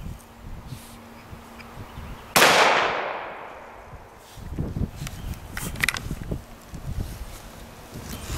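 A 9mm round fired from a Chiappa X-Caliber survival shotgun outdoors: one sharp, loud report with a decaying tail, alone, followed by faint wind and rustling.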